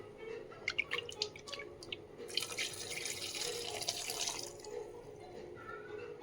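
Coconut ground with a little water, poured from a grinder jar into an anchovy curry in a home kitchen: a short run of drips and splashes, then a steady, bright pouring stream for about two seconds, close and fairly quiet.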